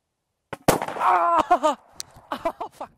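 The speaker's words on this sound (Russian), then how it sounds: "Сегодня я хочу представить вашему вниманию МЛ-36 гранатомет" An ML-36 airsoft grenade launcher fires with a sharp, close pop, followed by excited shouting and several shorter vocal bursts.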